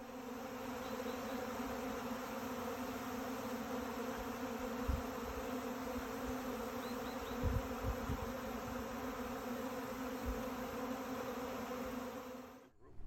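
Honey bees buzzing steadily around an opened beehive outdoors, a dense continuous droning hum throughout with a few faint thumps, ending abruptly.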